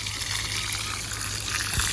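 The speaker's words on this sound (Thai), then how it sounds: "ใส่บัวหดครับ" Water pours and trickles steadily from a watering can, a soft continuous splashing sprinkle with a low hum underneath.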